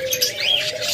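Small parakeets chirp in a breeding cage: bright, quick tweets and rising calls overlap close by at moderate loudness, with no voices.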